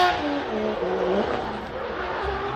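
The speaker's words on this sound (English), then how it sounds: "Wernhouse 2JZ S15. Nice job there, lighting up the Falcon tires" A Nissan S15 drift car with a 2JZ engine spins its Falcon tires at Formula D Long Beach qualifying, a loud sustained engine roar with tire squeal and skidding, close and continuous.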